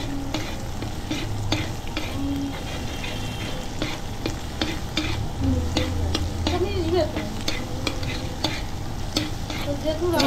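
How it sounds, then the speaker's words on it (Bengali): An egg sizzles and crackles steadily in a hot pan, with occasional scrapes and taps of a utensil stirring through it. "ডিমটা ভাজা ভাজা হয়ে এসছে।"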